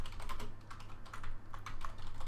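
Rapid typing on a computer keyboard while writing PHP code, giving steady, fairly faint clicking keystrokes in uneven bursts, with no talking.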